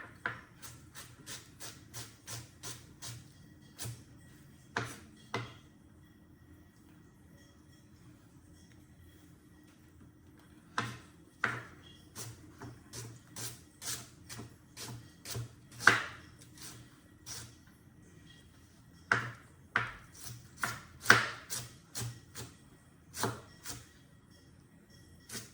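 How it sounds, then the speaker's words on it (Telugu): A knife chops onions on a board in crisp, rapid taps, coming in several bursts separated by short pauses, close and fairly quiet. "ఉల్లిపాయలు కోసిస్తున్నాం"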